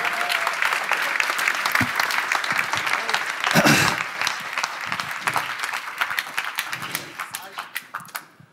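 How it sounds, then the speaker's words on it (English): Audience applause at a hospitality accelerator demo day in Nanterre: steady, dense clapping from a crowd fills the whole stretch, swelling briefly near the middle and then thinning into scattered claps toward the end. "sous les applaudissements"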